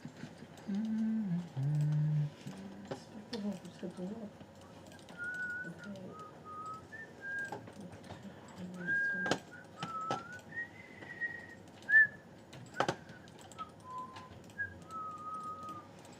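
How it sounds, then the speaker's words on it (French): A film theme is whistled as a clear melody of short, wavering notes, with a voice briefly at the start and light background noise throughout. "je siffle bien"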